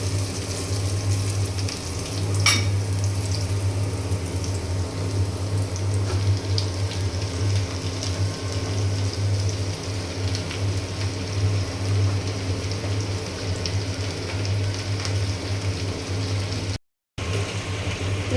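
Red amaranth greens fry in hot oil with onion, garlic and green chillies, giving a steady, even hiss over a low hum that runs throughout, with one brief dropout near the end.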